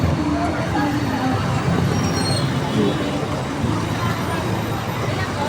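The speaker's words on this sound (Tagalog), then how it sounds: "Sobra traffic dito" Heavy road traffic in Balagtas makes a dense, continuous rumble of cars, buses and trucks close by, with murmured voices blending into the steady roadway din.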